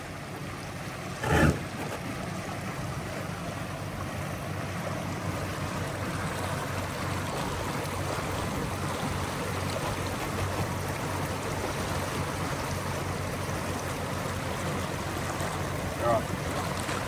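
Twin Parsun Joy 1.2 electric outboard motors push a boat across open water at about 500 watts each, a steady broadband wash of water and motor noise running throughout, with a couple of brief knocks.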